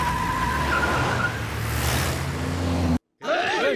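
A car pulls away hard with tires skidding, a loud engine drone and squealing rubber sustained for about three seconds before an abrupt cut to a different scene.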